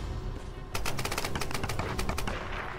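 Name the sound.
gunfire in the video game Tomb Raider: Definitive Edition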